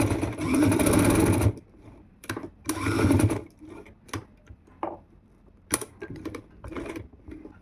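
A sewing machine double-stitching a seam on palazzo pants runs in loud close bursts, a long run, then another, followed by short stop-start stitches and quiet gaps.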